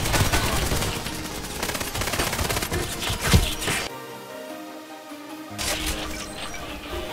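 Rapid Uzi gunfire from the online shooter Contract Wars rattles in loud, sustained bursts, breaks off for about a second and a half, then resumes with more shots.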